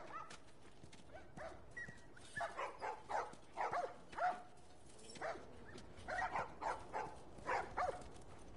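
Dogs bark in short, repeated bursts in The Last of Us Part 1, yapping at a moderate distance in an irregular rhythm against a quiet game background.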